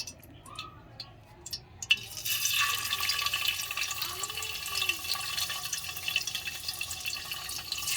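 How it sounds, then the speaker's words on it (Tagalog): Sliced tofu frying in a hot pan, a steady close crackling sizzle that rises after the first couple of seconds and continues evenly, with light ticking pops throughout. "Ayan, prito natin itong ating tokwa."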